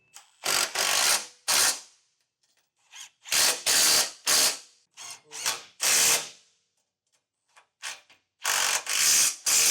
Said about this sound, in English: we can tighten down the running boards to the brackets with a 13mm socket